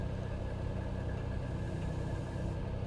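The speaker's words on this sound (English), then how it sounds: "We can go to our toilets just to check if we can actually hear these engines." Airbus A321 engines in the X-Plane 11 flight simulator, heard from inside the cabin toilet, give a steady, muffled low drone and hum that stays even and continuous throughout.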